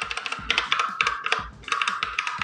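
Typing on a Geeky GK61 mechanical gaming keyboard with AZERTY layout: fast, clicky keystrokes in irregular bursts, close and crisp, with no voices.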